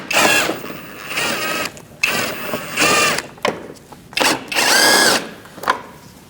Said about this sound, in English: Now we're going to remove these two bolts using a 7mm socket.